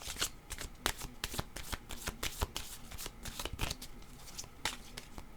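A deck of tarot cards shuffled by hand in a quick series of crisp riffling bursts, close and fairly loud, with no talk.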